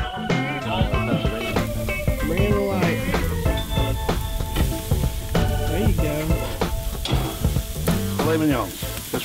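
Loud, dense sizzling and popping of beef steaks cooking on a hot grill, with clattering and background voices mixed in throughout.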